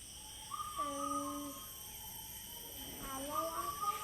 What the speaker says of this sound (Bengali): এই যে যে পাখিটা এখন ডাকছে,